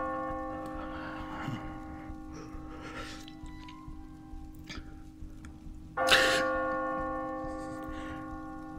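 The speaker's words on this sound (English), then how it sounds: "The bell invites me." A single bell tolls loudly at one stroke and then rings on with a long, slowly fading hum, set within a Shakespeare Macbeth performance with a steady low drone beneath.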